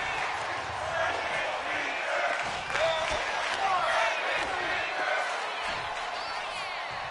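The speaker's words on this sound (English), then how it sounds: "I think the crowd was chanting for Frankie Fingers." A wrestling-event crowd chants in a steady, roaring wash that fills the hall, with scattered shouts and thuds rising and falling beneath it throughout.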